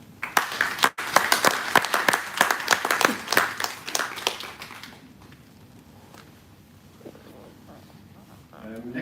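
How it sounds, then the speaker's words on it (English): A conference audience claps loudly to welcome a speaker to the stage, the dense applause fading out about halfway, leaving quiet room noise. "Can we have a round of applause,"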